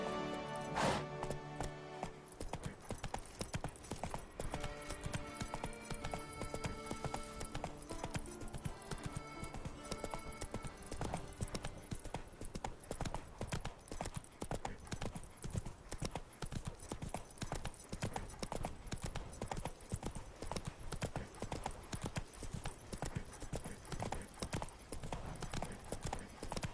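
Roach the horse trots through The Witcher 3 game world, hooves clip-clopping in a quick, steady, close rhythm, with a brief musical chime at the start and no talking.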